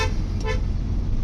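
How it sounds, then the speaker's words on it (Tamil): A short car horn toot sounds twice in quick succession over a loud rumbling engine and road noise, on a road near Pollachi, India. "ஹார்ன் வந்து நல்லா இருக்கு."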